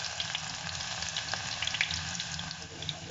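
Two crushed garlic cloves and some crushed ginger fry in oil in a pan, making a soft, steady sizzle with light crackles, fairly faint and with no talking.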